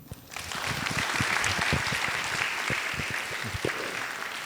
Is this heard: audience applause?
yes